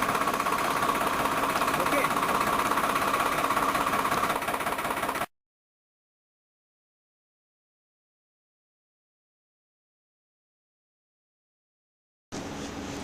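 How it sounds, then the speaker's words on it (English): A Farmtrac 6060 tractor engine idles close by in a showroom with a steady mechanical rumble, cuts out into silence midway, then briefly returns at the end. "Start the tractor"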